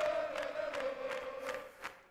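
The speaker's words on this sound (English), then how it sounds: "Crowd are going mental." Stadium crowd in Football Manager 2021 roaring and chanting, a steady sustained mass of voices with recurring swells of cheering, fairly loud and continuous throughout.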